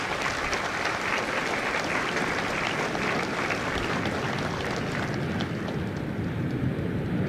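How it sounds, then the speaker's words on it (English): Sustained applause from a large audience at a Marine Corps recruit graduation at Marine Corps Recruit Depot, honoring Staff Sergeant Matthews and the recruiters, a dense steady wash of many hands clapping at even loudness throughout. "Let's give Staff Sergeant Matthews and all of our recruiters a big round of applause."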